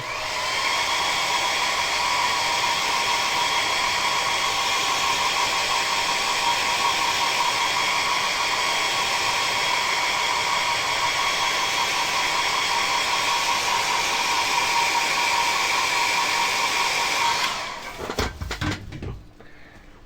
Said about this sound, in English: Now I need to get the hairdryer here because I need to dry that bit so I can hold it.